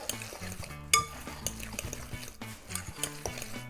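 Stuffed-egg filling mixture stirred in a bowl, quick close scraping and soft clinking of a utensil against the bowl in an uneven rhythm, with a sharper clink near the start.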